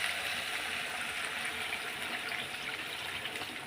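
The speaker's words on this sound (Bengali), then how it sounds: "এই যে জল দিয়ে দিলাম" Water pours steadily into a pan of spicy curry made with large rita fish, a continuous close gushing splash that holds even from start to finish.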